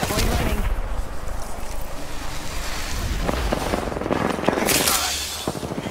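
Sustained gunfire from an Apex Legends match, dense bursts of automatic fire layered with impacts and game effects, loud and continuous throughout, with sharper shot transients clustering toward the end.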